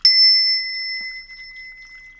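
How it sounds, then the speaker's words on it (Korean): A single meditation bell strikes once, clear and bright, then rings on alone in a long, steady, slowly fading tone in a quiet room. "종소리 들으면 바로 눈을 감는 겁니다"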